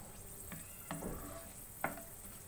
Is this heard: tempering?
yes